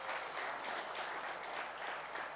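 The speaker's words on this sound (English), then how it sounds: "Another round of applause," Steady applause from a gala dinner audience at a labour law seminar, many hands clapping in a dense, even wash of sound, moderately distant and without a break for its full length.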